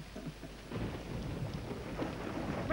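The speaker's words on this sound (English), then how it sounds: "Oh, it's raining, it's pouring." Steady pouring rain hisses across the whole stretch, with low rumbling thunder rolling beneath it. The sound is moderately faint, with no voices.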